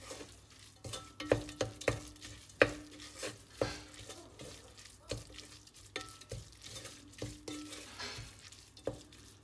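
Prawn masala mix being stirred in a pan, with a soft frying sizzle under a series of irregular spoon scrapes and knocks against the pan, close and fairly quiet.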